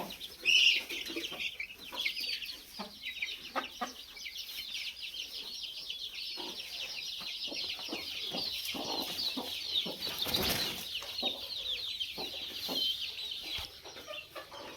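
Gavran chickens in a small poultry setup cluck and chatter softly, with scattered calls and faint chick peeps over a steady hiss of background noise.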